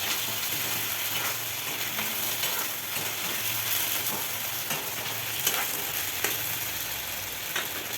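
Chicken fries in a pan with onion and chilies, giving a steady, dense sizzle throughout. A utensil stirs and scrapes at an irregular pace, with a few sharper clicks, and no one speaks.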